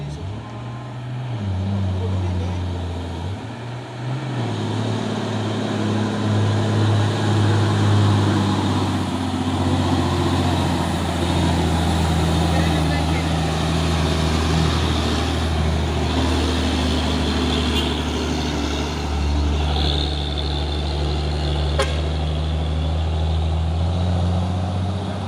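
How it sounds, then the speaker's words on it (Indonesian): A Hino 6x2 tronton truck rolls past on the road, its heavy diesel engine droning steadily and close, loud and low throughout, with engine pitch shifting slightly as it moves along. "Truk tronton Busoren 6x2."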